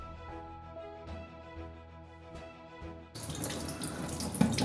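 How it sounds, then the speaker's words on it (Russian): A kitchen tap gushes on suddenly and runs steadily while eggs are washed with soap, following a quiet stretch with a soft tonal hum in the background. "яйца разбивать, я их всегда промываю с мылом"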